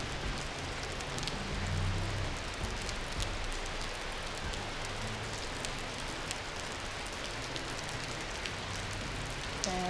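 Steady, soaking rain falls during a bicycle tour, a dense, even hiss of drops on surfaces that continues unbroken without any pause throughout.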